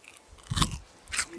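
A potato bitten and chewed close to the microphone, giving two distinct crunchy bites about half a second apart over a quiet background.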